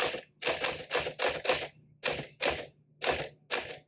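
Rapid bursts of keystrokes on a vintage manual typewriter, a 1961 Sterling or a 1956 Silent Super, come as about nine crisp, close clacks in an uneven rhythm, each with a short thump and brief gaps between them.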